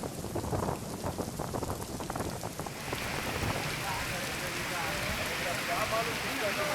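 Heavy monsoon rain pours down in Ratnagiri district, a dense hiss of drops beating on surfaces that thickens and grows steadier after the first few seconds, continuous throughout.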